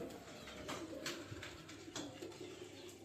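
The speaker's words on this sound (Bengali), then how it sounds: "এই পায়রা দুটো দুটো জোড়া এসছে নতুন" A newly arrived pair of young pigeons coo faintly in a quiet loft, with low, soft murmurs rising and falling, plus a few scattered light taps.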